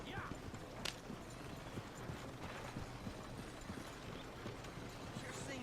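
Faint, steady horse hooves clip-clop through a town in the Red Dead Redemption 2 video game, mixed with background ambience and occasional talking.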